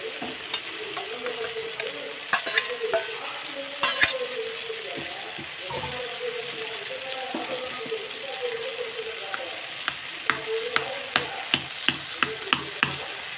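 Tomatoes sauté and soften in a pan for a masala dosa potato filling, a steady sizzle broken by the scrape and clatter of a spoon stirring, with sharper knocks toward the end; no talking.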